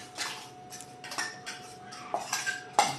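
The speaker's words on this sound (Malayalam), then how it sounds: "ഇനി ഇതിലോട്ട് നമ്മുടെ ചേരുവകൾ ഇതാ അരച്ച് വെച്ചിട്ടുള്ള അരപ്പൊഴിക്കുകയാണ്" Ground coconut paste poured into a pot of pumpkin erissery, heard as a handful of metallic clinks and scrapes of a spoon against the pot over a quiet background.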